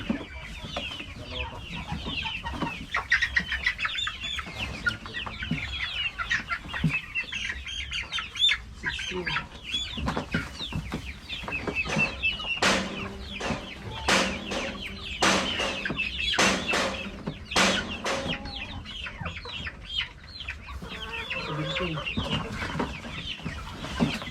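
Rhode Island Red chickens cluck and squawk continuously throughout, several birds at once, with sharp bursts of louder cackling in the middle.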